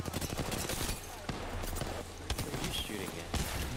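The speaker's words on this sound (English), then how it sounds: "I was shooting at your decoy." Rapid gunfire bursts from the video game Apex Legends, shots fired at a decoy, rattle in quick fusillades over a busy game soundscape, fairly faint and continuous across the clip.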